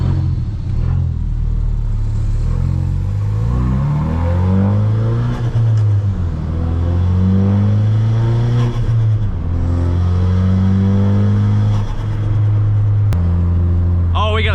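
A 450HP Ford Focus RS engine revs and accelerates hard through several gears, loud and close, with rising and falling tones at each shift and a brief pop near the end, while someone talks over it.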